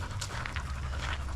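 A brindle pit bull at an SPCA shelter pants rapidly and close by in short, quick breaths, heard alone without talk.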